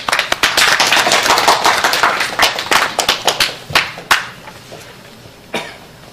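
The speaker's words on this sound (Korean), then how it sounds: "큰 박수로 맞으시기 바랍니다." At a civic network's founding assembly on history education, the audience gives a burst of loud applause that thins into scattered individual claps before fading out.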